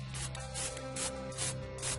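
Rust reformer aerosol sprayed onto a battery tray of a 1994 Ford Bronco, heard as repeated short hissing bursts with a rubbing, rasping texture at moderate level, no voices.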